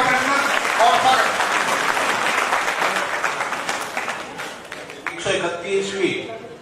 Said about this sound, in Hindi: जोरदार तालियों से उनका हार्दिक अभिनंदन और स्वागत।